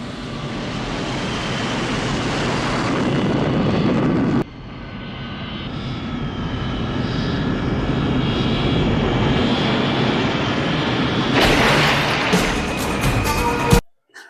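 An airplane from the action film Commando roars with a loud, sustained engine drone that dips briefly, builds again, then cuts off sharply near the end, with no talk over it.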